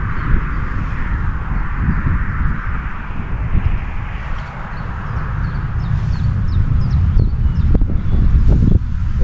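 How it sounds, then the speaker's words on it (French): Strong, steady north wind rushes and buffets across the microphone while fishing, a low continuous roar with faint bird calls sounding in the distance. "le vent du nord"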